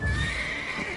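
Roach, the horse in The Witcher 3, lets out one short, loud whinny with a rising pitch, heard up close.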